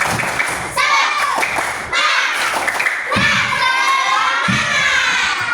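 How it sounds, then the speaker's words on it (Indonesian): Children in a classroom perform a rhythmic group clap chant, loud shouted voices in unison punctuated by bursts of clapping and thumps, repeating in several energetic phrases. "Tepuk semangat."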